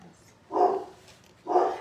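Two barks from a dog nearby, spaced about a second apart, fairly loud against a quiet background.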